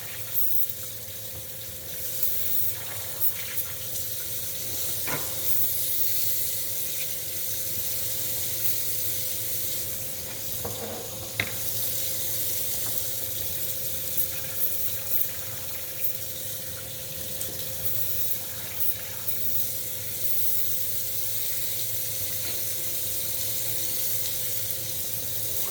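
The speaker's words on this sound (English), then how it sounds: "Luckily, I've got a sink right by me. Helps changing the colors a lot." Water running steadily into a sink while paint colors are rinsed out during custom painting, a constant hissing flow with occasional clinks and splashes.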